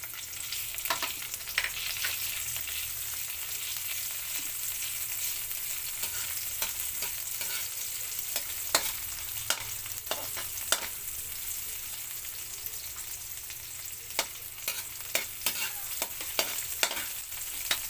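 Chopped onion frying in a pan while being stirred: a steady, close crackling sizzle runs throughout, with sharp scraping clicks from the spoon against the pan at irregular intervals, and no voices.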